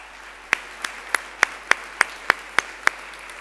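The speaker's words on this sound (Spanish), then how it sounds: "Yo creo que merecen doble aplauso." Slow, evenly spaced single handclaps, about nine sharp claps in a steady rhythm, close and fairly loud over a quiet background during an Italian immigrant day event.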